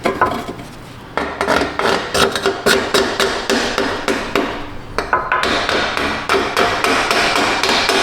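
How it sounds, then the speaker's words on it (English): Sharp metallic hammer blows strike a part on a Ford Flex, about two per second at close range, with a short pause after the first second and then a steady run of strikes. "Maybe get a bigger hammer, dude."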